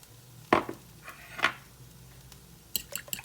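Eggs for an omelette with heavy cream and black pepper are stirred in a bowl. A few faint, scattered clinks and taps of a utensil against the bowl sit in an otherwise quiet kitchen.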